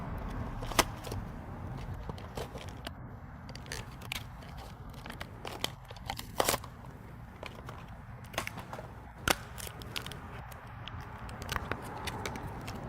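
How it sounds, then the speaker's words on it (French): Close, wet chewing and crunching of a very spicy gummy bear, with irregular sharp crackles and bites over a steady low rumble of outdoor background noise. "tu dois le mâcher, assure-toi de bien le broyer"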